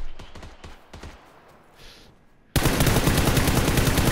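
Gunfire in PLAYERUNKNOWN'S BATTLEGROUNDS: a few sharp distant shots crack in a quick rhythm, then a sudden, loud, dense burst of close automatic fire takes over and keeps going.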